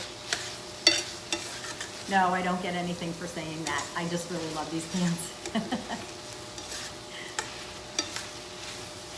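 Beef and onions sizzling in a Made In pan while being stirred for beef stroganoff, soft frying hiss and scraping under someone talking throughout.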